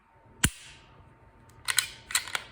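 Trigger on a Canik SFX Rival pistol: one sharp click as it breaks, then a couple of softer paired clicks from the reset, close and isolated.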